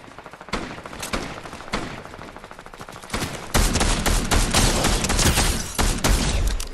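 Rapid video game gunfire crackles in bursts, quieter at first, then becoming a loud, dense barrage of shots for the last few seconds.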